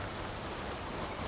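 Steady rain pours down, near and dense, a continuous hiss of drops with no other sound on top.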